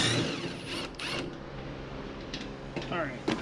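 Ratchet wrench loosening shroud bolts on a John Deere Z445 riding mower with an oil leak, giving a few quick clicking ratchet bursts over steady broadband noise, close and fairly loud.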